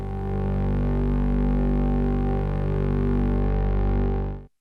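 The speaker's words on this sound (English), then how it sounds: "Nice and dark drone-like sound." Dark, drone-like modular synthesizer tone through an Avalon Harmonics iVCA stereo VCA, a steady low-heavy hum with layered harmonics sustaining evenly for several seconds alone before fading out quickly.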